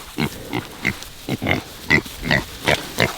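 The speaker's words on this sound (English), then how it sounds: "my Cooney pigs are from New Zealand" Kunekune pigs on grass make a series of about eight short, close grunts at an even, rhythmic pace, each a brief snuffling burst with quiet gaps between.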